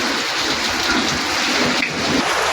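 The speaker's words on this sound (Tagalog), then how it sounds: "Lakas ang ulan." Steady heavy rain pours down with a constant broadband hiss, with gusty wind underneath and no voices.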